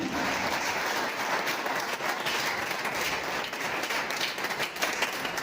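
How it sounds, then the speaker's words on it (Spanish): A church congregation applauds the Lord during a Spanish-language sermon, a dense, steady roar of many hands clapping that runs throughout, fairly loud and close. "Un aplauso para el Señor."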